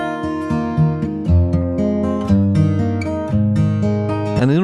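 Acoustic guitar strummed and picked through a Sonable Smart Comp 2 compressor plugin, sustained chords ringing with steady, evenly compressed level and a brighter flourish at the end.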